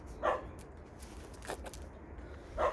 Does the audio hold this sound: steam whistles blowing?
no